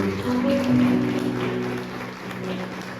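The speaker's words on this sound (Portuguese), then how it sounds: "Você pode aplaudir o Senhor Jesus?" A church congregation claps during a worship service for Jesus, a moderate wash of hands heard under sustained musical tones and a faint voice, fading slightly toward the end.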